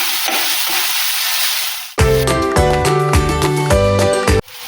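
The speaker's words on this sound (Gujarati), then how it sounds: "બધી જ વસ્તુને સરસ રીતે મિક્સ કરી લઈશું।" Besan bhurji with tomato and capsicum stirred in a hot pan, giving a steady close sizzling hiss for about two seconds before loud tonal music takes over and masks the cooking.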